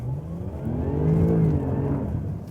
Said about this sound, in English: Accelerating really hard here, by the way.